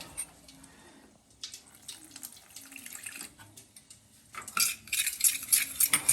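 A spoon scrapes and clinks against a pot while spice paste of garam masala, coriander, cumin seeds and cinnamon is mixed for a vegetable dum handi, in irregular close strokes that grow louder and busier toward the end, with no talk.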